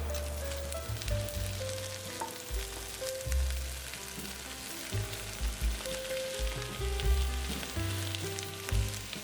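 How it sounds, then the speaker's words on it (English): Garlic and vegetables including cabbage frying in a pan for house special chow mein, a loud continuous sizzle close by with stirring, set over a low background of music and no speech. "Then cook down our veggies. Add some garlic as well, and then the veggies."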